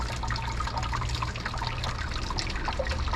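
Sparge water trickling steadily through the grain bed while an Irish stout with flaked oats is brewed, a continuous close watery patter without any talk.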